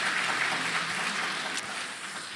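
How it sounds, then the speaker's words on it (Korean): A church congregation applauds during a Sunday worship service, a dense, steady wash of many hands clapping that fills the whole moment and stays constant without speech. "하나님께 영광의 박수 돌리도록 하겠습니다."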